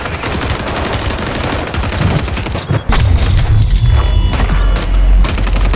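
Loud video game gunfire in an online shooter match, with dense rapid bursts and heavy booming shots that swell after a brief dip near the middle and stay continuous to the end.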